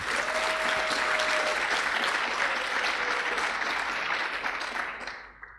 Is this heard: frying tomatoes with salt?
no